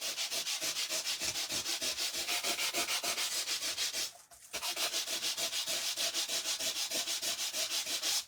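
Rapid back-and-forth sanding rubs the surface of a white-core material to distress it, a loud, even scratching rhythm that stops briefly midway and then resumes.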